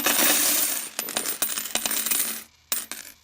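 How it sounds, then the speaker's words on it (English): Gold coins pour out of a bag onto a table, a bright metallic jingling rush followed by scattered clinks and a few final settling taps, close and alone. "he poured a bag of golden coins on the table"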